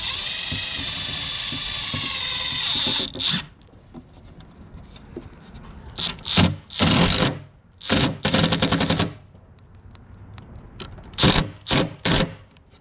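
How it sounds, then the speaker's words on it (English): A power drill pre-drills wood: a long steady high whine opens the clip, then comes a series of short, loud, grinding bursts separated by brief pauses. "I even have the bit to like pre-drill these two."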